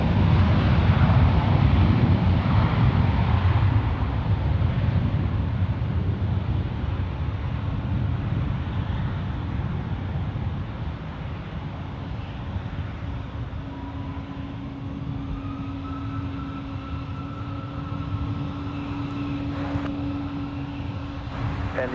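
An American Airlines airliner taxiing toward runway 28 left at San Francisco International Airport, a steady broadband engine rumble and whine that is loud at first and eases slightly, with a faint tonal hum rising later.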